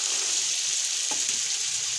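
Green peas fry with spices in a hot pan for a matar pulao, giving a close, steady sizzle with a brief stirring scrape partway through.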